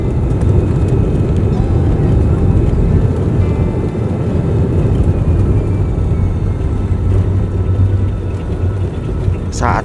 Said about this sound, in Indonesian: akhirnya pesawat kami mulai bersiap untuk segera berangkat